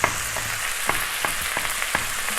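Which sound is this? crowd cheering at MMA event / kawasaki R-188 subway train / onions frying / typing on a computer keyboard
onions frying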